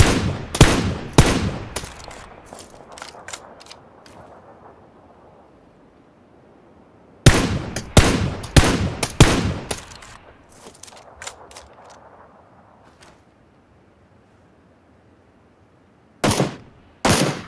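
Gunfire in PUBG, loud clusters of sharp single shots and quick bursts with faint echoing reports trailing between, then a long quiet gap before another pair of shots.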